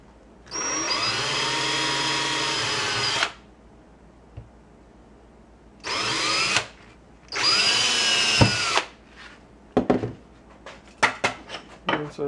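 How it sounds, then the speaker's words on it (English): A power drill bores holes in 2mm Stormtrooper armor plastic: three loud whining bursts with pauses between, the pitch sagging as the bit bites, followed by scattered clicks and handling knocks. "we're going to go to this side here and drill a couple holes."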